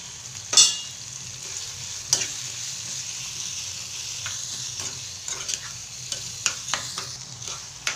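Tomatoes sautéing in oil in a pan, a steady, close sizzle with a sharp clack of the spoon near the start and scattered scrapes and taps of stirring later, and no talk.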